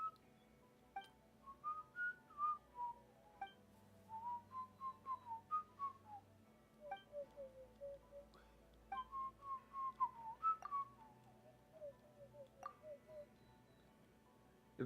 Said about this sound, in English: I can't whistle like that either when it comes to whistling.